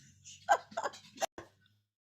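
A dog gives a few short yips and whimpers, quiet and close, in brief bursts separated by gaps of near silence.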